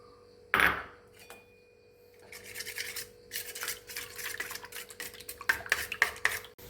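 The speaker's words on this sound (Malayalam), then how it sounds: "ഇതിലേക്ക് നമ്മുടെ മുട്ട മിക്സ് ഒഴിച്ചു കൊടുക്കുക" Egg mix is poured into a steel plate, with a sharp metallic clink followed by scraping, tapping and splashing sounds up close and no talking.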